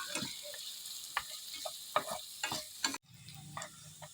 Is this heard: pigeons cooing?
no